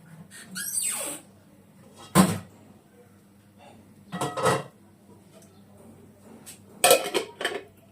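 A lid set down on a cooking pot of eggs boiling for a cauliflower curry makes several close metallic clanks and knocks in separate bursts, with quiet gaps between them.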